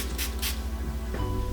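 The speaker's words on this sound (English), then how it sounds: "I'm gonna spray, especially where that new growth area is" A spray bottle mists hair at the new-growth area around braids, giving two quick close hissing spritzes in succession followed by a soft handling rustle.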